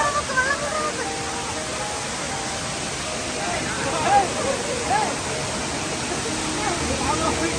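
Aaliyar Monkey Falls, a family outing spot, gives a constant broadband rush of falling water, loud and close, with faint voices of visitors mixed into the roar.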